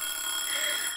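An egg timer goes off with a continuous shrill ringing alarm during a timed reading sprint, loud and steady throughout with no talking.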